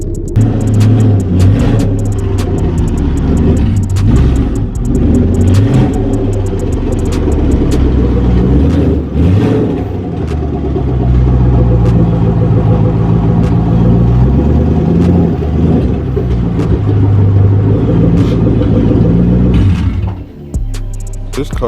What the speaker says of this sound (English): let's move this car and back it in